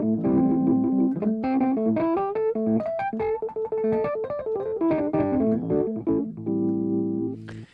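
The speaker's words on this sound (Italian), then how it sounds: "io adesso ho suonato il Rhodes che sta andando dentro un amplificatore che è dentro l'armadio" A Rhodes electric piano runs into an amplifier placed inside a cupboard and is miked with a 57, playing a sustained, steady passage of chords and melody that ends on a held chord.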